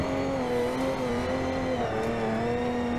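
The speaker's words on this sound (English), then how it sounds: "Literally flying in our Porsche. This is a great car to drive." Porsche rally car in the Dakar Desert Rally video game, rear-engined, racing across a stage: a steady, loud engine drone holds a sustained pitch with a brief dip near the end, continuous and close with no talk.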